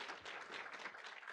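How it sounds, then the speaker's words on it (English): A conference audience at a health symposium breaks into applause, a soft, steady wash of clapping heard at a distance. "Can we just give them a quick round of applause?"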